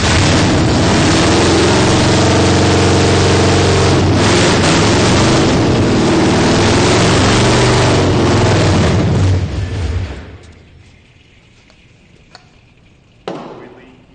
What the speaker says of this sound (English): Yep, keys on. Are we starting it?